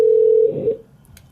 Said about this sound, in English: Let's see if Don Frye picks up the phone.